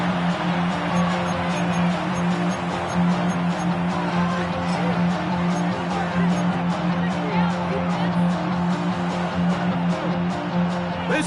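Steady crowd roar in a Madden 26 football game, a dense wash of cheering and babble that holds at an even level throughout, with no distinct voices standing out above it.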